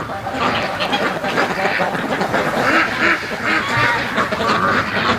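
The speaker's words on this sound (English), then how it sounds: "Look how slow that duck is." Farm ducks, including a Muscovy, keep up dense overlapping quacking and honking calls at close range, a busy flock chorus with some voice mixed in underneath.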